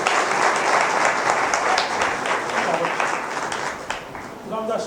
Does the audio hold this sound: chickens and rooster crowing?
no